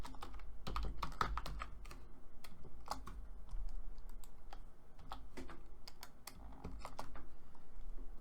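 Python code being typed on a computer keyboard, steady bursts of crisp key clicks with brief pauses in between, close and fairly quiet, with no talking.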